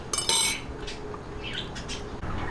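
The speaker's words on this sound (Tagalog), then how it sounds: "Pero hahalu-haluin po natin hanggang sa kumulo para po maging creamy yung ating" A utensil scrapes and clinks against a cooking pot while coconut cream is stirred, bright metallic scraping strokes coming in short bursts over a soft bubbling background.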